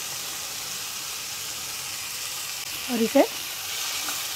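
Finely chopped tomato and salt go into onion paste frying in a pan, giving a soft, steady sizzle throughout, with a brief spoken phrase near the end.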